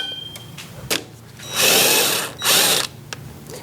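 A hand ratchet on an extension works loose the rear wheel nut of a Honda PCX150 scooter, giving scattered clicks and then two loud, close bursts of ratcheting, with no talk.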